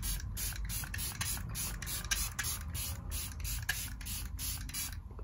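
Hero Cosmetics Supercharged Reset Mist is sprayed in a quick series of short, close hissing pumps at an even rhythm, alone and fairly quiet.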